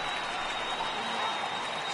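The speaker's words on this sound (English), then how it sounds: "Crowd gets up for the 3-2." Stadium crowd in a baseball video game rising to its feet for a full 3-2 count, a dense, steady roar of cheering and clapping that holds at an even level throughout.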